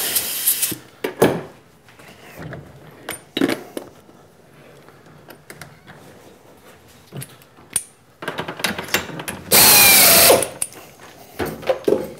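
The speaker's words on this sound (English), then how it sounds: "we're going to go ahead and drill the height adjuster just to open it up a little bit further" Intermittent bursts of a power drill biting into a metal toolpost grinder clamp's height adjuster, separated by quieter clanks and handling noises, ending with one longer loud whirring run.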